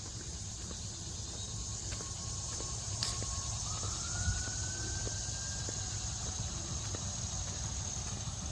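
A siren wails faintly in the distance from a wooded park, one thin rising tone drifting over a steady insect drone, with soft hoof-like clopping and scattered ticks nearby.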